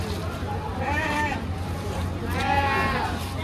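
Goats bleating at a busy goat market, two drawn-out calls rising over a steady hum of crowd noise and voices.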